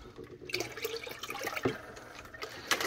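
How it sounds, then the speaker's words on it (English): Water pours into a container to rinse out brine for pickled quail eggs, a soft splashing and trickling close by, broken by a few louder clinks and splashes. "we can always add the water at the end here to help rinse that out"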